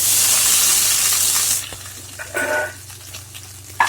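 Crushed ginger hits hot oil in a pan with dried red chillies, a loud steady sizzle for about a second and a half that then settles into a quieter crackle with a few small pops and stirring scrapes.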